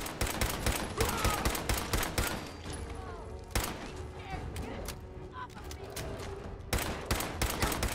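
Repeated gunfire from a gun in Fallout 4, loud bursts of shots in irregular clusters with brief pauses between them, fairly close and dense throughout.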